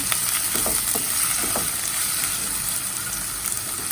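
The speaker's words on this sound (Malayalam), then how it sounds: "എണ്ണ നല്ലോണം ചൂടായി വന്നിട്ടുണ്ട് ഇനി ഇതിനകത്തോടെ നമ്മൾ ഉള്ളി ചേർത്ത് കൊടുക്കാം ജസ്റ്റ് ഒന്ന് ഇളക്കി കൊടുക്കാം" Onions sizzle and crackle in hot oil for a shrimp roast, a loud, continuous frying hiss with a few soft scrapes of stirring, no voices.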